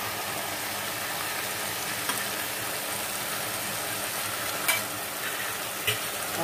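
Potato bhujia stirred in a pan, a low, even sizzle running throughout with occasional light clinks and scrapes of the spatula, fairly quiet and without speech.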